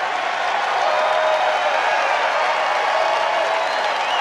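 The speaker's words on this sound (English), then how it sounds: "And the crowd, of course, goes wild." A large crowd applauds and cheers, a dense, loud, continuous wash of clapping and shouting that holds steady throughout.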